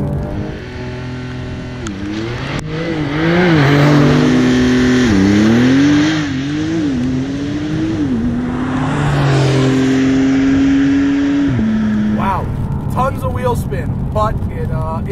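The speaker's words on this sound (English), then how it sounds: "Left foot brake, right foot gas, and here we go. Lots of wheel spin." A 2021 Porsche 911 Turbo S launches hard in Sport Plus on a wet, bumpy road, its engine revving loud and close with rising and falling pitch sweeps as the wheels spin, while a voice talks over it.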